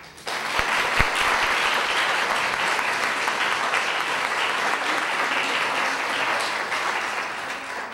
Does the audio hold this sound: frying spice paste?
no